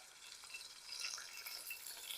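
Fish frying in a pan over an outdoor cooking fire in Jamaica, a quiet steady crackling sizzle with no voices.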